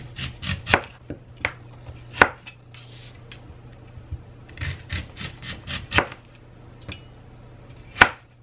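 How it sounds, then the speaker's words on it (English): A knife slicing potatoes into rounds and halving them on a cutting board, a run of crisp close taps and chops with short pauses between strokes. "I'm just going to do slices and then cut the slices in half"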